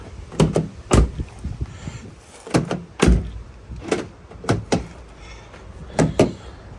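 Central locking on an Opel Zafira B repeatedly locking and unlocking, a series of sharp mechanical clunks in pairs and singles, close and fairly loud with quiet gaps between.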